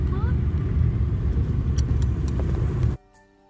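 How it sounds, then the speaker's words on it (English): Steady low rumble of a car interior while driving, with road and engine noise continuing under a voice, then cutting off abruptly near the end. "So, we're in a car. Just a random car, you know?"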